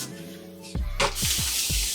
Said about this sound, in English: I'll take the bottoms of my hair and just spray it